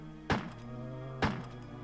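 Gun reload in Resident Evil Director's Cut: two solid mechanical thunks roughly a second apart, fairly close, over a steady low game backdrop.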